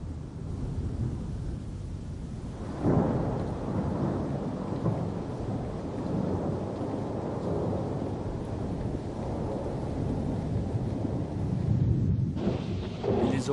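A thunderstorm from violent cumulonimbus clouds, with thunder rumbling low and long over steady rain and wind, a sharp rise early on and another loud burst near the end.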